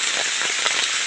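Steady rain hisses down on a forest during rattan planting, a dense, continuous wash of drops with no pauses over the brief moment.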